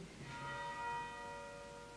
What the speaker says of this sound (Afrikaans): Daar slaan die klok, ek moet klaarmaak.